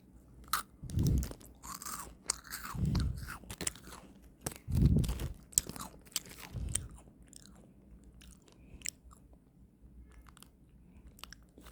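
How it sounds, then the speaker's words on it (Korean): Crunchy chocolate-filled biscuits in a Jjanggu Huinduingi edition are bitten and chewed close up, with several loud crisp bites followed by softer crunching and chewing, without any talk. "짱구 흰둥이 버전 먹어볼게요"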